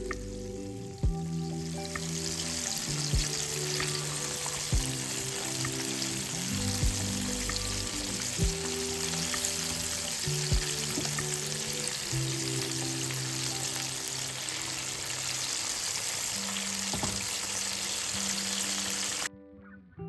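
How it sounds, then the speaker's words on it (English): Pieces of chicken wing fry in hot vegetable oil with a loud, continuous crackling sizzle, a few dull bumps along the way and soft music in the background, until the sound cuts off abruptly. "The sizzling sound is so satisfying."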